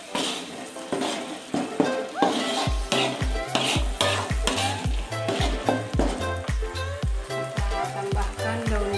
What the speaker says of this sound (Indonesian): Kita tumis sampai mengeluarkan aroma harum ya.